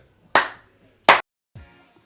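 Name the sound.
clapping to open a podcast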